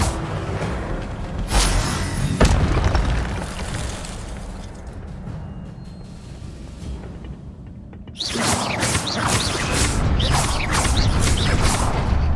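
An Incendio fire spell cast in a Harry Potter video game, heard as broad whooshing, crackling bursts that swell and fade over several seconds, with a fresh loud surge near the end.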